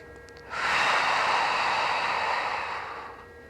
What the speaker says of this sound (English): Long, big breath in. Long, big breath out.